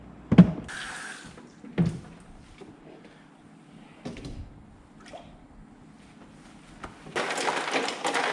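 Water is poured into a cooler during an ice comparison test: a few sharp knocks and splashes, then a sustained, louder gushing pour near the end, close by and without talk.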